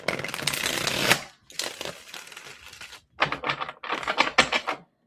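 Tarot cards are shuffled in several quick, crisp bursts of riffling and flicking, with short pauses between rounds and no talk.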